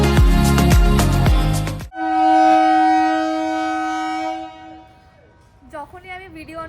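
At a railway station a long, sustained horn-like blast follows a burst of louder mixed noise, then fades and gives way to a voice near the end.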